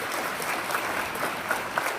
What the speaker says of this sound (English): quick round of applause for our volunteers